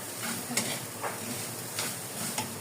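Leftover red rice being stir-fried in a pan, a soft sizzle with several light scraping strokes of a spatula at an uneven rhythm.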